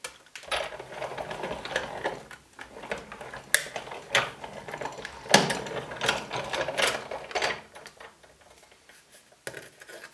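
A Big Shot die-cutting machine is hand-cranked with a die pressed through paper, giving uneven mechanical rattling, clicking and grinding that comes and goes in short surges, close and moderately loud.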